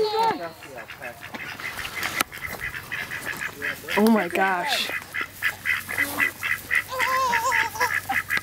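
Ducks at an alpaca farm quack and honk close by in a lively, repeated chorus while people talk over them.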